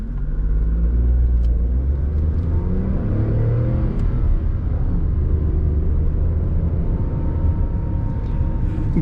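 Tata Nexon turbo petrol engine in sports mode accelerating from a start, a steady low rumble with rising engine drone filling the whole stretch, loud and close, with no talk.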